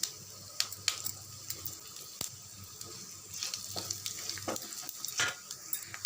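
Spices and asafoetida frying gently in hot oil on low flame to temper a ground-masala fish curry, a soft continuous sizzle with small scattered pops and crackles, close up and fairly quiet.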